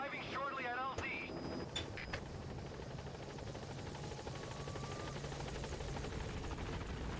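In Metal Gear Solid V, a support helicopter arrives at a landing zone as a steady, loud rotor drone that holds throughout, with a brief radio-style voice at the start.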